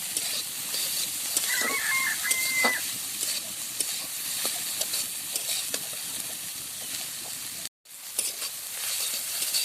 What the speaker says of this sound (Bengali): কেটে রাখা একটা টমেটো দিয়ে দেবো কফির সাথে নাড়াচাড়া করে টমেটোটাকেও গলিয়ে নেব